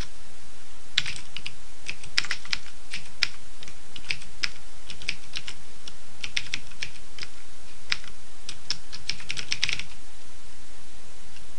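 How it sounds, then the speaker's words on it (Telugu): Rapid, uneven keystrokes clatter on a computer keyboard, coming in bursts with short pauses, close and clear with no voices. "ఇంగ్లీష్లో టైప్ చేస్తున్నాను"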